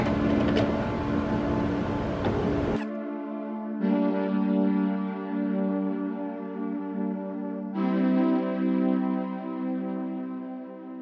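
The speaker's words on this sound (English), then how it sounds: "Done. Calibrating the printer." An HP Envy Photo 7855 printer calibrating after first setup: a broad mechanical burst, then steady tonal whirring and humming in repeated passes with clear stops and restarts, close and fairly loud, with no talk.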